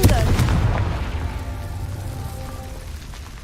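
A Confringo spell blast in Hogwarts Legacy, a loud close boom at the start that rumbles and fades slowly over a few seconds.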